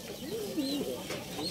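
Racing pigeons at a loft during derby training in Rosales, Pangasinan: a single soft, wavering coo sounds close by over a faint, steady outdoor background.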